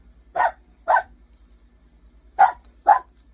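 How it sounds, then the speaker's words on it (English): A dog barks four times, loud and fairly close, in two pairs separated by a short pause, in an otherwise quiet kitchen. "that dog has to bark every time I do the dishes or I'm on a video"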